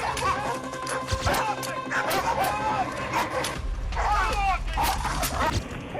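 Dogs bark and snarl in sharp repeated bursts during an attack, with scuffling and clattering thuds mixed in, while a voice talks over the commotion.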